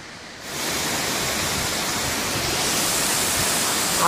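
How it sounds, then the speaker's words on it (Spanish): A Himalayan waterfall near Taktsang Palphug monastery, a loud, steady rushing roar that swells in within the first half second and holds with no talk over it. "Acojonante la cascada"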